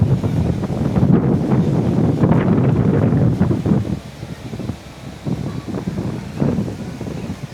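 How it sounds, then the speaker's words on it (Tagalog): Strong beach wind buffets the microphone in heavy, rumbling gusts that swell and ease, loud and close, with faint voices partly buried beneath the roar. "sobrang lakas ng hangin"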